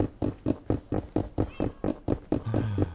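A cat meows over and over in a quick, even rhythm of about a dozen short calls, close and fairly loud, with a faint extra tone near the end.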